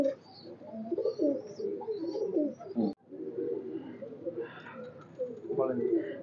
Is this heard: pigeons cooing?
yes